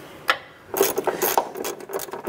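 Bolt being run by hand into the upper ball joint of a 2008-2012 Honda Accord, giving a close series of rapid metallic ratcheting clicks after a single early tick, continuing steadily to the end.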